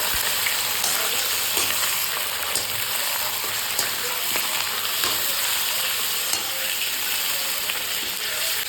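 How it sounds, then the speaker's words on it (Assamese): Continuous, close sizzling of onions and local chicken frying in a pan, with occasional faint scrapes and clicks, no talking. "তো এতিয়া পিয়াজ ভাজি আছো মই। এতিয়া মাংসখিনি দি দিলো।"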